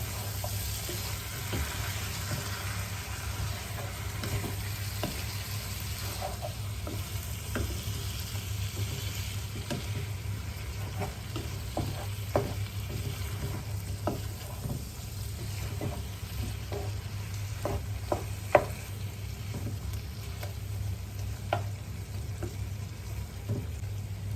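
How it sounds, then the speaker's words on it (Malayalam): Cooked chicken is stirred into sizzling masala in a pan. A steady, moderate sizzle runs throughout, broken by scattered scraping clicks from the stirring spoon, with no voices. "എന്നിട്ട് നല്ലതായിട്ടൊന്ന് ഇളക്കി കൊടുക്കണം."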